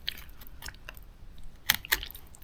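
A knife cuts halibut cheek meat along the bone of a fish head, giving quiet, close, sparse crackling and slicing clicks with two sharper crunchy bursts near the end.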